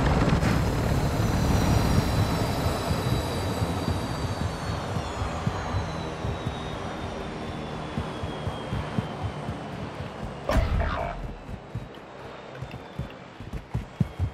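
A video-game helicopter drones with a steady rotor thrum and engine whine that slowly fades as it moves away, with a sharp impact-like burst near the end.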